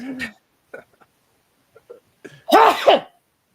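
Faint voiced sounds lead into a loud, close sneeze with a sharp explosive burst and a trailing vocal tail.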